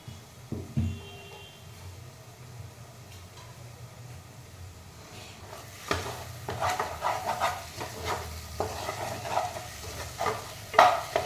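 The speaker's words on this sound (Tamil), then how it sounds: "அந்த கிரைண்ட் பண்ண மிக்சரை வந்து நான் அந்த ஹீட்டான கீயில் வந்து நான் அதில் போட்டு நல்லா ஸ்டிர் பண்ணிகிட்டே இருக்கிறேன்" Ground cashew paste stirs in hot ghee in a pan for halwa, quiet at first, then a spoon scrapes and clicks rhythmically amid soft sizzling; no voices.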